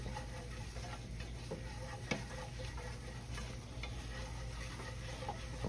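A utensil stirs and mixes gravy ingredients in a pan, soft scraping and clicking strokes over a steady low sizzle, close and fairly quiet, with no voices.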